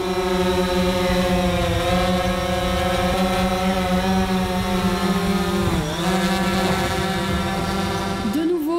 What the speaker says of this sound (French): J'envoie le drone un petit peu plus haut.